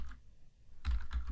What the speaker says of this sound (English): I'm beginning to type a class name.